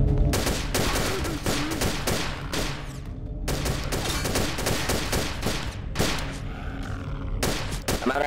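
Rapid bursts of gunfire from Garry's Mod, dense and loud, with repeated volleys and short pauses across the span; a grunt or two mixes in among the shots.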